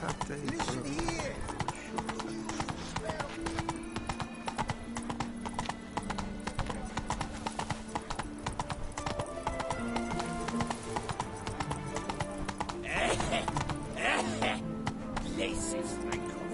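The horse Roach gallops in The Witcher 3 video game, a fast steady clip-clop of hooves with game music and voices talking over it throughout.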